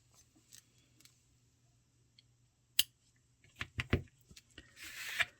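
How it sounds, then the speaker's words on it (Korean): Scissors snip microfiber yarn tails on a crocheted flower-motif dish scrubby, with a few faint, quiet clicks followed by a quick cluster of close cuts and a soft rustle at the end. "실을 이렇게 좀 잘라 놓겠습니다."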